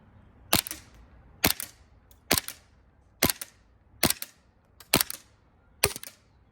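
A USHOT TP22 gas airsoft pistol firing seven sharp, close pops, one after another at a steady pace of about one per second, each with a brief hiss and metallic rattle, with no talking.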